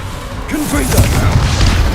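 A Confringo spell explosion in Hogwarts Legacy lands as a deep, rumbling boom that swells after a brief lead-in and keeps rolling loudly to the end.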